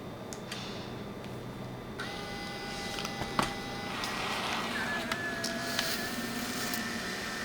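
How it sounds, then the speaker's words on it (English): A printer runs steadily, feeding and printing pages one after another with soft mechanical whirs, clicks and a brief high squeal of paper movement, close by and with no voices. "Still printing."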